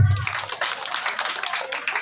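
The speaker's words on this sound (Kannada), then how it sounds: "ಇವಾಗ ಚಪ್ಪಾಳೆ ತಟ್ಟರು" An audience at a religious anniversary gathering claps together in a brief burst of close, dense applause just after a speaking voice ends.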